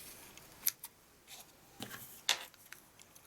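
Scissors snip off the ends of tied-off ribbon on a paper gift treat box, two or three faint, crisp cuts against a quiet background with no talking.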